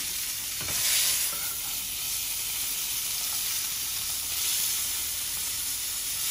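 A London broil, already cooked sous vide, sears in a hot pan, giving a steady close sizzle and hiss that swells briefly near the start and again toward the end, with no voices.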